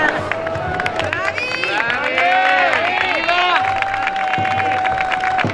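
At the Castellamonte presentation of the Bela Pignatera and Primo Console, an audience claps and cheers in a loud, continuous wash. Sustained tonal sounds, like whistles or music, ring over it.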